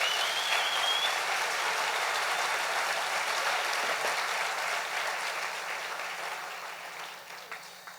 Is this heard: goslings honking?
no